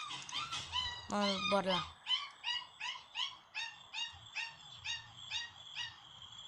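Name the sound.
dogs barking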